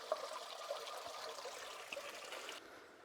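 Iron-colored water trickling out of a mine opening, a faint, steady running trickle with a few soft drips, continuous until it drops away near the end.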